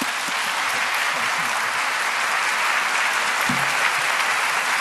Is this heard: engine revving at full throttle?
no